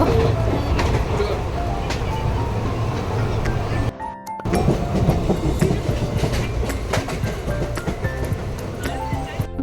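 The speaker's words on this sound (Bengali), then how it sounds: "আমার কাছে ট্রেন প্লাস বৃষ্টি plus window seat is equal two স্বর্গ" The Shahid Express passenger train runs through heavy rain, heard from a window seat inside. A loud, continuous rumble and rattle of the carriage with rhythmic clatter, briefly dipping about midway before resuming.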